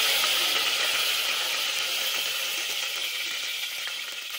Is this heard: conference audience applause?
no